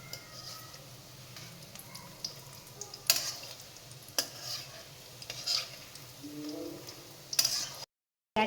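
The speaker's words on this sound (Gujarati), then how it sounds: "ગાંઠિયા બની રહ્યા છે અને તેને સાવ ધીમા તાપે તળવાના છે" Gathiya fry slowly in oil over low heat, giving a faint, steady sizzle under occasional sharp clicks and scrapes of a utensil, before the sound cuts out briefly near the end.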